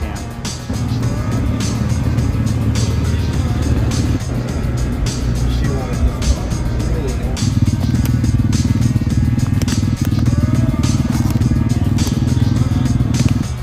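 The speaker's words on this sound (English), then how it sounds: "I'm gonna go ride some dirt bikes" Dirt bike engines running steadily while riding, a loud continuous droning rumble with shifting revs throughout and wind noise close to the microphone, with a voice talking partway through.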